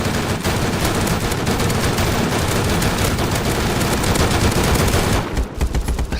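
Dense, continuous video-game gunfire in a zombie shooter, rapid automatic bursts and volleys from several weapons crackling nonstop, loud and close, with a brief lull near the end.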